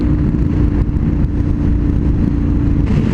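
A 2014 Honda NC700X rides along with a tall windscreen fitted, its engine a steady loud low drone blended with rushing wind noise, constant throughout with no pauses.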